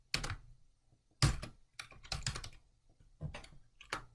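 Computer keyboard typing in bursts of clustered keystrokes with short pauses between, close and fairly quiet, no voices.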